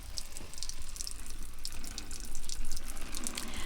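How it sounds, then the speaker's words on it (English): Water poured into a potted hibiscus plant and draining down through the soil, a close, continuous splashing trickle with bright drips and gurgles throughout, no voices. "and water is going down."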